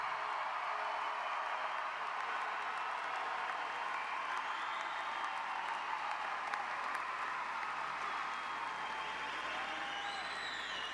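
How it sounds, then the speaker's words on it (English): A large crowd applauds graduates at the Blue Springs High School 2024 graduation ceremony, producing dense, steady, sustained clapping that fills the hall evenly from start to finish. "How about one more huge round of applause for this group of graduates?"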